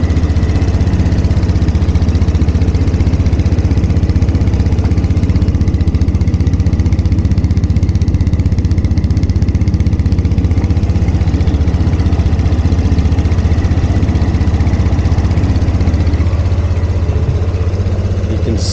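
A Piaggio Liberty 150S scooter sits idling close by, its steady low engine hum and vibration running evenly and alone with no talk for the full length.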